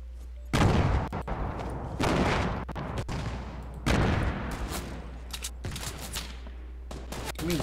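Gunfire in the video game Fortnite: several loud, close sharp shots with decaying booming tails, spaced a second or two apart, some quicker bursts near the end, no talk heard.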